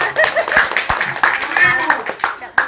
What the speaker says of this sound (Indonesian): Kasih tepuk tangan dulu ibu kita.